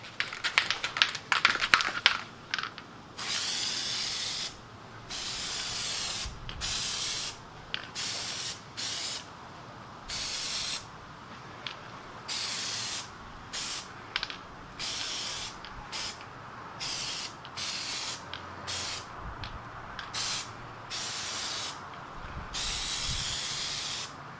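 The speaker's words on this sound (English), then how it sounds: "Spray both surfaces until it becomes tacky." Repeated short bursts of spray adhesive from an aerosol can, a dozen or more sharp hisses separated by brief pauses, close by and fairly loud.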